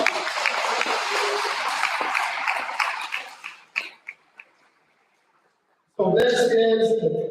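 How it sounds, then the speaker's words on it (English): Applause from an audience at a high school awards ceremony rings out, then thins into a few scattered claps and fades to silence before a voice begins speaking. "So please give them a round of applause."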